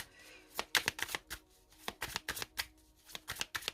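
Tarot cards are shuffled and drawn by hand during a card reading, giving quiet clusters of crisp riffling flicks and taps in an irregular rhythm, close and soft, with no talking.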